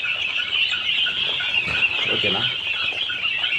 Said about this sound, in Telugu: సీమకోడి పిల్లలు అయితే ఉన్నాయి